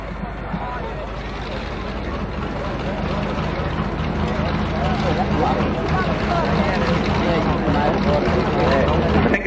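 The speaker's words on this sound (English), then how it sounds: "The tractor's getting right through." A Fordson Power Major tractor's engine drones in a deep, steady roar that builds slightly during a tractor pull at Briagalong, with an announcer's voice heard over it.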